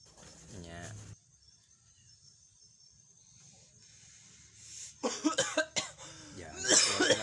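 Coughing after inhaling from a vape: a rough cough up front, a long quiet pause with faint hiss, then a burst of harsh, repeated hacking coughs close to the mic, mixed with a voice.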